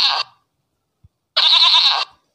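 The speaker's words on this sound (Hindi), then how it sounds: "बकरी देखिएगा ये आ रही है बकरी," A goat bleats twice, first a short bleat and then, after a pause, a longer wavering bleat of about 0.7 seconds; both are loud and close, with no talk over them.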